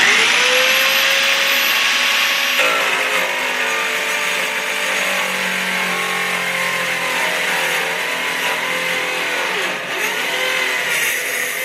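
Eastwood mini metal saw plunge-cutting into steel, rocked down to cut its own channel: a loud, steady high-pitched whine and grind lasting throughout, with a brief change in pitch early on and no talking.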